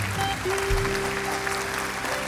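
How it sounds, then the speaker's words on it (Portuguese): A church congregation applauds after a prayer, a dense, steady wash of clapping from many hands, with a faint sustained tone underneath. "Você pode aplaudir ao Senhor."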